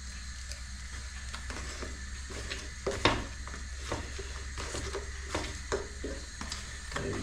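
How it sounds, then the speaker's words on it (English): Beef strips being stirred and coated with stroganoff seasoning in a pan, soft scraping and mixing scuffs with faint sizzle, a few sharper clicks of utensil against metal. "Just coat all those beef strips with that, mix it down with that stroganoff seasoning."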